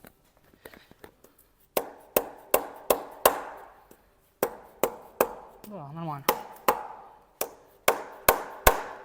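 Repeated dull thuds of a rubber mallet tapping a piston into a tractor engine, in irregular bursts of several blows with pauses; a voice speaks briefly midway.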